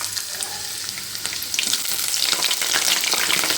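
Sliced onions and green chilli hit hot oil with spluttering mustard seeds, a close, crackling sizzle that swells louder and denser over a few seconds, with no voices.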